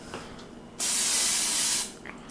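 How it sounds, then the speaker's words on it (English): A single sustained olive oil aerosol spray hisses for about a second into a stainless steel electric pressure cooker pot, close and loud, then cuts off, leaving quiet room sound. "I'm going to spray with olive oil"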